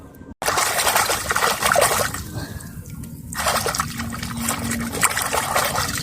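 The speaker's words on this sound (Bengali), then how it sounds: "দেখেন ভালোভাবে ধুয়ে নাও মাছটা" Small tilapia being washed in water makes splashing and trickling sounds, with water sloshing and dribbling close by after a brief abrupt start.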